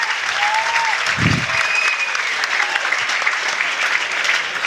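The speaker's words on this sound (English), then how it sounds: "a big round of applause to both fighters for a fantastic main event" Crowd applause following a fight-night main event between two fighters, a dense continuous wash of clapping from a large audience, steady and loud throughout.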